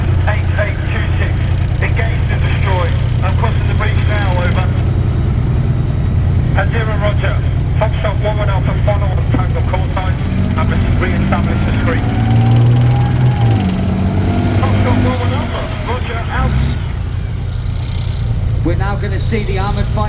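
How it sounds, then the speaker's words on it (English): British Army armoured fighting vehicles push forward at a tank show, a loud continuous engine rumble with rising whines and clatter. Radio chatter and a commentator talk over it throughout. "see the armoured fighting vehicles push forward and get into positions"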